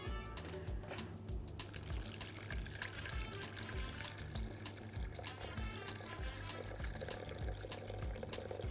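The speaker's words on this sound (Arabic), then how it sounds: "وبعدين هنحط البطرمانات بتاعتنا ونحط الميه" Water pours steadily into a metal pot holding glass jars, a continuous splashing rush that fills the whole stretch at close range.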